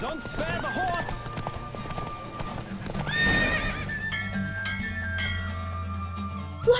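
Galloping hooves clip-clop steadily while a horse neighs loudly near the midpoint in The Witcher 3 during a horse race, with background music and a brief burst at the end.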